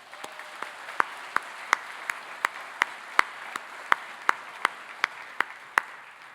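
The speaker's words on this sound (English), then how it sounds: "so let's give them a round of applause" Sparse applause at a spring graduation ceremony for graduates' families and friends, a few people clapping in a slow, uneven rhythm with sharp individual claps standing out over a faint room background.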